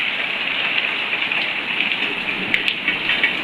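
Heavy rain pours outdoors during a stormy downpour, a dense, steady hiss of water striking surfaces that runs unbroken and loud throughout, with no voices.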